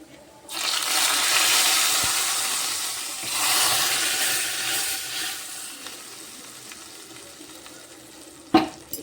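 Raisins and nutmeg powder frying in a pan for a chana dal chitranna dish, giving a loud hissing sizzle that swells then gradually fades, with a sharp clatter near the end.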